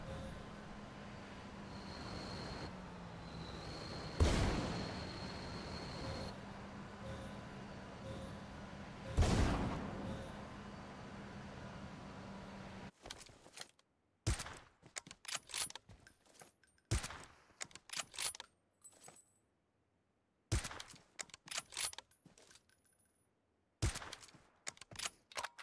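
Gunshots in a PUBG-style battle royale video game, heard as several sharp distant cracks and bursts, spaced irregularly over a steady hum at first, then chopped, intermittent game sounds.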